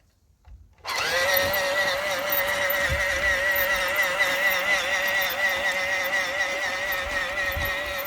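A 45mm G scale garden rail toy train switches on and runs, its small electric motor rising into a steady, continuous whine with a faint rattle that carries on alone without talk.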